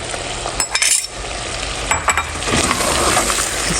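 Green chillies and onion hit hot oil with karela gosht, bursting into a loud, continuous sizzle with stirring scrapes and light utensil clinks against the pan.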